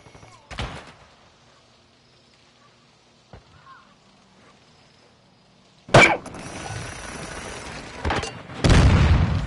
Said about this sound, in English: Kaboom, cruise missile.